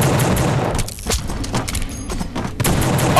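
Enemy gunfire in the horror action video game The Suffering: dense, loud bursts of shots and booms crowd the whole stretch with little pause, rattling on without letup.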